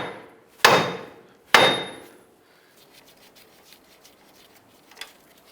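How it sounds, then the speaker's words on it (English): A hammer strikes the upper steering knuckle of a 2002-2007 Jeep Liberty to free the control arm. Two sharp, loud metallic blows land about a second apart, each ringing briefly, followed by faint clinks and rustling. "we're going to go ahead and bonk the upper knuckle here to release"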